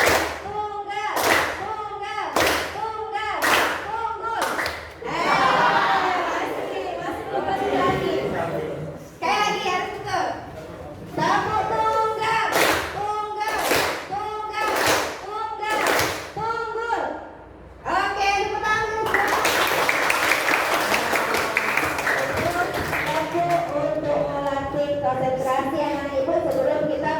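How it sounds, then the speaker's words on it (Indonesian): A group, apparently children, claps in unison in single-clap rhythm, sharp evenly spaced claps alternating with chanting voices, followed by a louder burst of mixed group noise near the end. "Tepuk tunggal, tunggal, tunggal, tunggal, tunggal, tunggul."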